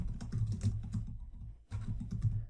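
Typing on a computer keyboard while building a calendar in an Excel spreadsheet: dense, rapid clicking keystrokes, close and fairly quiet, with a short pause before a second burst, and no talking.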